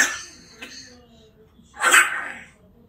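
A single sharp sneeze bursts out close by partway through, preceded by a faint short vocal sound, with quiet room tone around it.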